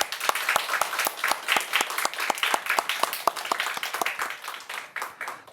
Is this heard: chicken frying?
no